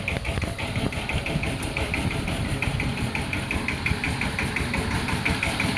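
A motorcycle engine runs steadily at idle on a village road, a continuous mid-low throb with a faint rhythmic ticking, close and unbroken with no voices.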